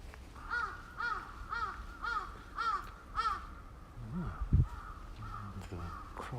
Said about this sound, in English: The crows are communicating very loudly.